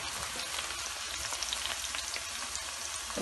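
Onions frying in a pan give a steady, even sizzle that hisses continuously at close range, without stirring breaks or voices.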